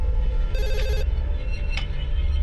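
A telephone rings at a police station, one short burst of bright electronic trilling, with a sharp tone a moment later over steady room hum; no one speaks.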